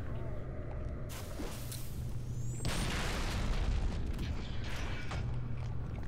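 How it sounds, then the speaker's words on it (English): A sticky grenade goes off in Halo 3 gameplay, a dull boom that swells into a longer rumbling burst over continuous game noise. "Okay, watch this sticky grenade."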